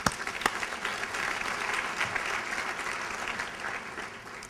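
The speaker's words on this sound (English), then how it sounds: "a tremendous round of applause" Applause from the audience at a men's awards event, broad crowd clapping that starts with a few sharp claps and settles into an even, fairly soft roar lasting several seconds.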